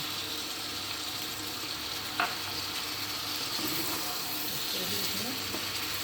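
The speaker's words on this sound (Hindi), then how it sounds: "पिसा हुआ टमाटर को डाल देंगे" Ground tomato paste goes into frying aloo gobhi, giving a continuous close sizzle with a short splat and light stirring scrapes, and a voice talks faintly beneath.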